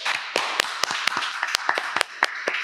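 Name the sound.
applause for Om Dev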